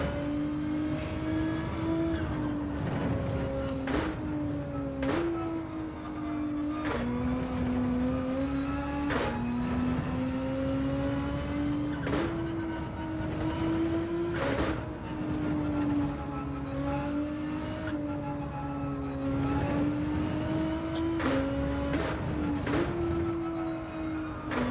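A racing car engine in Gran Turismo 7 drones loudly and steadily as it laps the track on a daily race test, its pitch climbing through each gear and dropping sharply at repeated shifts and braking points.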